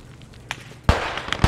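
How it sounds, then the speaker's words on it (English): Grenade or mortar explosions in the video game Post Scriptum, a faint pop followed by two sharp nearby blasts with crackling debris, no talk. "Right on those grenades or mortars, whatever that is."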